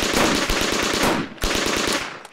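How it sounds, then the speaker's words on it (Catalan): Sustained machine-gun fire from a film execution scene, rapid loud bursts of gunshots in a steady rhythm, a brief pause, then another burst that trails off. "Ara directament ordenarà que els metrallin"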